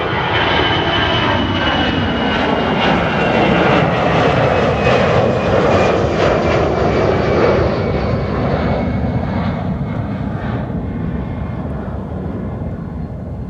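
An EasyJet Airbus A319 passing at Amsterdam Schiphol Airport, a loud, steady jet roar that swells slightly and then slowly fades as it moves away, with no other sounds over it.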